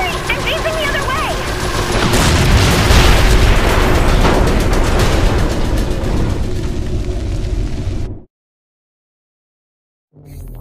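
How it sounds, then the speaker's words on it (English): A capital ship blowing up in Saints Row 4: a loud, sustained roaring blast with heavy rumble that swells then holds for several seconds before cutting to silence, game voices mixed in. "but I just blew up a capital ship"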